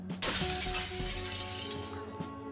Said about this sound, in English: Who's bloody smashing windows?